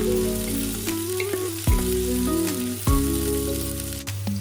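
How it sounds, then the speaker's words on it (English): Chopped onion and green chilies sauté in a pan for mutton mandi, a loud steady sizzle broken by a few sharp scrapes and knocks of a stirring spoon. "Saute for about 3 minutes until the onions are soft and fragrant."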